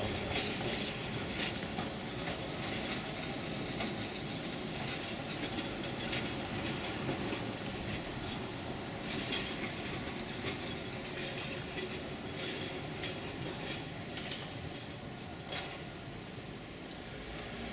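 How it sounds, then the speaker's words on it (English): Trams and trains roll past on city rails in Basel, Switzerland, a continuous broadband rumble with clattering wheel clicks and brief squeals, fairly distant, with faint voices murmuring underneath. "This tram action and train action is just continuous here."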